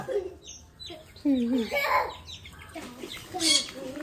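Chickens cluck and squawk up close in short bursts, several birds overlapping against a quiet background.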